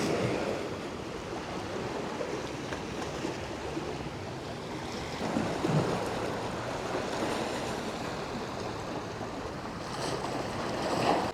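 Sea waves wash along a European coast. A soft, continuous surf roar swells and ebbs gently and stays fairly faint, blended with wind buffeting the microphone, and no one speaks.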